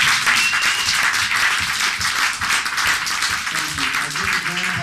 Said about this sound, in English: Let's have applause for that.